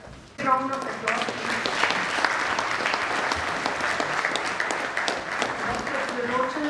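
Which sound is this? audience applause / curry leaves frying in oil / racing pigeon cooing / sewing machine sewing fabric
audience applause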